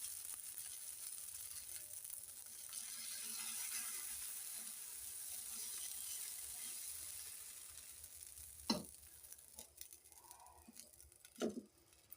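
Dosa batter sizzles on a hot pan with a soft, steady frying hiss, fairly quiet, broken near the end by a couple of brief scraping or clinking knocks.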